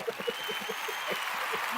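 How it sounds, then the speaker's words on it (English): Audience applause during a live product demo and Q&A, steady clapping at moderate level with a voice speaking over it. "let's give a big round of applause for Linda."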